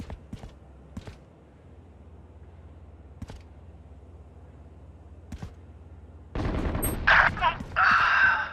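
Gunshots in Valorant ring out as sparse, sharp single cracks spaced a second or two apart over a quiet background, then a louder dense burst of firing and game effects near the end, with a voice speaking faintly.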